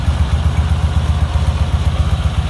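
A 1961 Kyiv K-750 motorcycle engine runs steadily nearby with a deep, bassy, rhythmic throb and light mechanical clatter, heard alone without talk.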